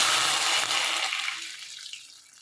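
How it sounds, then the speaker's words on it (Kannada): About a glassful of water poured into a pan holding ghee and roasted dry fruits for mango payasa gives a short, bright splashing rush that fades away over a couple of seconds, with no talking. "1 ಲೋಟದಷ್ಟು ನೀರು ಹಾಕ್ತಾಯಿದ್ದೀನಿ."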